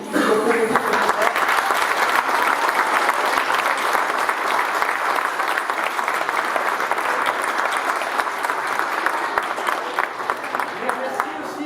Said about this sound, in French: vous applaudissez très fort, l'ensemble des élèves du Lénine qui ont proposé ce concert